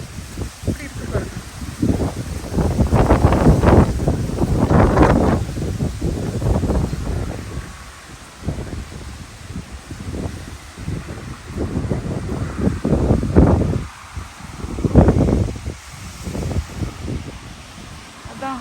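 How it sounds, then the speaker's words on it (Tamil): Strong wind gusts outdoors beside a mountain house, a steady roar of microphone buffeting that swells and eases while a person talks over it throughout. "பார்த்தீங்களா காற்று காற்று காட்டணும் தான் நான் வந்தேன் வெளியே."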